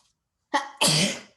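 A single close, sharp human sneeze: a short inhaled catch followed by a loud burst that fades quickly, alone in a quiet room during a tabletop game session.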